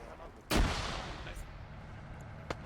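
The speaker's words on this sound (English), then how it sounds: "A lot of grenades getting thrown around." A video game battle at Raate Road with grenades and gunfire: one heavy blast with a long rumbling tail, then a faint distant crack near the end. Nobody talks.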